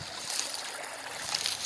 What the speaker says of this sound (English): building in some waterfalls, just for sound, mostly even